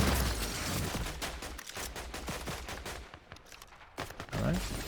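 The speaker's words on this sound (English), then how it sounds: "We're getting shot from that power tower still." Gunfire in a video game crackles in dense bursts through most of the stretch, a fusillade of rapid shots with a couple of louder reports near the end, while a player talks over it.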